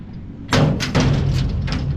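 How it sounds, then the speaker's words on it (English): A metal barn-style door on a Texas Pride 30K dump trailer swings open with a loud clunk and a couple of rattling knocks and thuds as it moves back, close by. "open it up, swing the door back."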